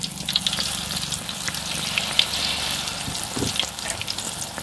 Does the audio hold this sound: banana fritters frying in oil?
yes